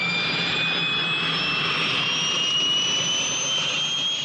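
A jet aircraft engine throttling up, a loud, steady, close roar with high whining tones that climb gradually, and no voices.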